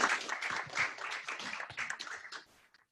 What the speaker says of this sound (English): Let's give Dr. LeMay a round of applause.